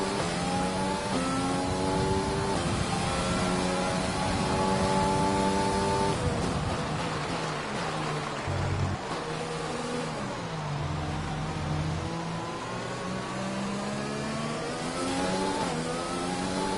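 Race cars in F1 2020 at the Canada Grand Prix scream past in a video game race, high revving engines rising and shifting through gears, with several cars overlapping continuously.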